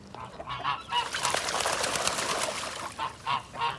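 Waddles, a disabled duck with leg deformities, honks repeatedly while swimming in an outdoor pool, bursts of harsh calls rising and falling in an uneven rhythm, fairly close with water noise beneath.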